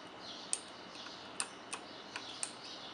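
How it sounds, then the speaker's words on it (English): Razer BlackWidow Ultimate mechanical keyboard keys clicking, about five sharp, separate clicks at an uneven pace, close up over a quiet hiss with no talking. "when it makes the clicking sound, the key doesn't actually go down fully"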